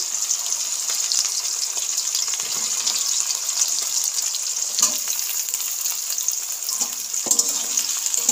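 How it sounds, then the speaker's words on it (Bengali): Onions fry in very hot oil with caramelised sugar in a karai for suti ghugni, giving a steady dense hissing sizzle with occasional sharper crackles and pops. "পেঁয়াজটা আমি ভালো করে ভেজে নেব।"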